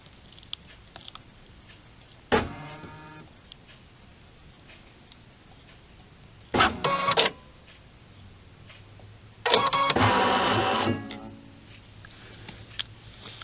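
Baby Lock Solaris embroidery machine scanning placement stickers, giving three short mechanical buzzing and whirring bursts that grow longer each time, separated by quiet pauses, with no talk.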